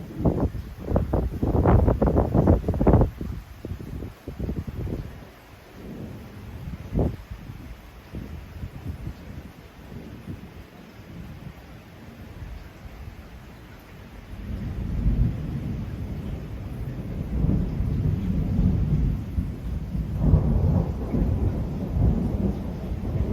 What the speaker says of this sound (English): I just captured some of it on video so that you could have the experience of a late night thunderstorm